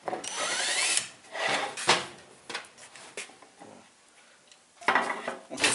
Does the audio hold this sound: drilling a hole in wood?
yes